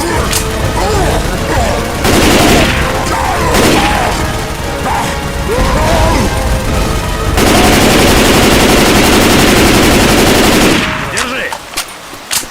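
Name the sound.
machine gun fire in the video game Left 4 Dead 2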